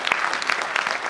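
An audience claps together in a short, dense burst of applause, loud and close, with no voices over it.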